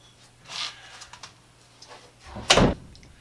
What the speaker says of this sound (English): Close the door, I can get to the racks, open the door, they're not in the way.